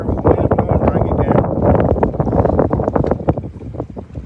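Strong wind buffeting the microphone on a small fishing boat out on a lake in summer, a loud steady roar and rumble with voices faintly underneath.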